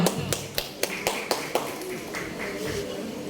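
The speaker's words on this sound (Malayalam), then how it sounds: "ഒരു കൈയടി ആവാട്ടോ." A handful of scattered claps from a stage-event audience welcoming a guest to the stage, sharp and fairly close at first, then thinning out into a quieter murmur.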